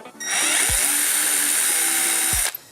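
A 3D printer prints a heart model, its motors giving a sustained, close mechanical whine with gliding pitch sweeps and a couple of dull knocks, starting and stopping abruptly.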